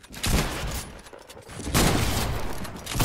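Heavy sniper rifle fire in the video game Fortnite: two loud, booming blasts, the second following closely and sustained for over a second, with no talk over them.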